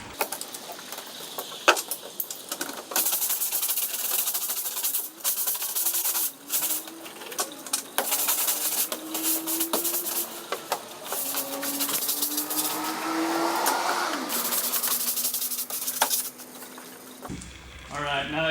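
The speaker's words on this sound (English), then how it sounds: "Hard bristle brush usually goes for the non-skid hard surfaces." A hard bristle brush scrubs the non-skid surface of a boat deck in rough, repeated scraping strokes, with bursts of rasping friction and some wet, mechanical noise up close, alongside intermittent talking.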